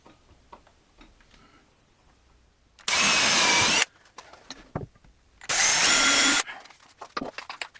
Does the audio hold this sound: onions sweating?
no